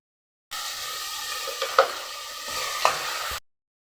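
Chopped tomatoes sauté with ginger garlic paste in a hot pan for a chicken gravy, a steady close sizzle with a couple of sharp scraping stirs, no talk.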